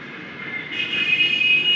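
A train at Araku railway station gives off a steady metallic hum and whine that swells slightly after a moment, close and sustained, with no speech.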